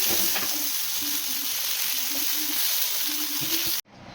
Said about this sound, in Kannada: ಮೀನನ್ನ ಸಹ ಮ್ಯಾರಿನೇಟ್ ಮಾಡಿರೋ ತವ ಮೇಲೆ ಎಣ್ಣೆ ಹಾಕಿ ಕ್ಲೀನಾಗಿ ತವ ಮೇಲೆ ಅದನ್ನು ಫ್ರೈ ಮಾಡಿ